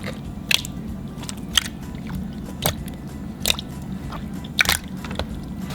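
Thick green slime is pressed and squished up close, with a string of sharp crackly pops and squelches landing irregularly over a soft background hiss, and nobody speaks.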